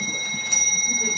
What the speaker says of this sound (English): These are the astral bells that were known to accompany the phenomena that she could produce.